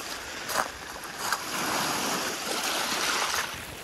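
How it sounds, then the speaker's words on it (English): Steady, moderate rain falls outdoors, producing a soft, even wash of hiss throughout, fairly quiet with a few slightly louder patters. "It is raining."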